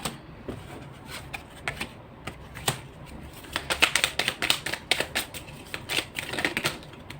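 Tarot cards shuffled by hand, close up, make a run of quick papery snaps and riffles in uneven bursts that grow busier toward the end.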